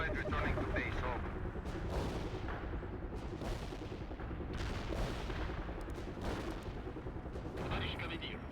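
Bombardment in the World in Conflict strategy game, a sustained wash of dense, overlapping gunfire and artillery booms rolling on without a break, loud and close, with voices talking throughout.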